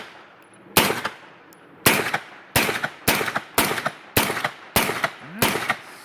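Eight gunshots from an Aero EPC AR-9 with a CMMG 9mm bolt, fired one at a time at a slowing then fairly even pace, each a sharp loud crack with a short ringing tail.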